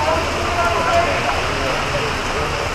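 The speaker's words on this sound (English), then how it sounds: "it's raining like crazy." Heavy rain pours steadily outdoors, a dense continuous hiss of drops on surfaces with no break, loud and close, with a voice talking over it.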